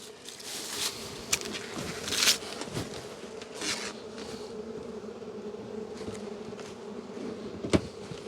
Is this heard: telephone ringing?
no